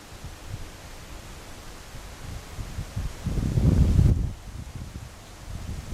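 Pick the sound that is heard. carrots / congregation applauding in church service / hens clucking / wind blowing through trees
wind blowing through trees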